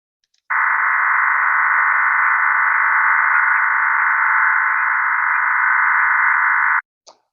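A FreeDV digital voice modem signal over HF radio plays as a loud, steady multi-tone hum, unbroken for about six seconds, then cuts off abruptly.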